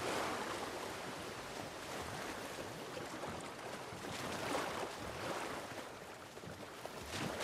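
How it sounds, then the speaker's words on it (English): Rushing water from a waterfall in The Last of Us Part I makes a steady, broad, faint roar with soft splashing texture, continuous throughout with no talk. "Underneath the waterfall."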